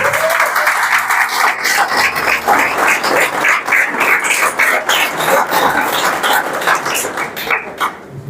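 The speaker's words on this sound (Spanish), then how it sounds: "denle un aplauso bien fuerte a Jesús." Sustained applause from a church congregation, a dense steady wash of clapping lasting several seconds without pause.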